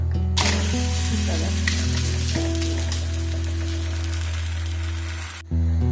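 Steady broadband sizzle of oil on a hot tawa as bhakri flatbread cooks over a high gas flame, continuous and close for several seconds under a constant low hum, then cutting off near the end.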